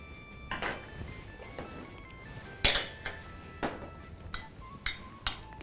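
Clinks and taps of a spoon against a glass cup as pumpkin ceviche is spooned into it, a series of bright, ringing knocks at uneven intervals in a quiet kitchen.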